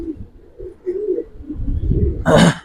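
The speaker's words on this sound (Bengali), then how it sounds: "কবুতরের লাইনে সবচেয়ে খাতারনাক কবুতর" Giribaz pigeons cooing close up in low, rolling throaty calls, ending in a brief louder rustle or flutter, with no voices.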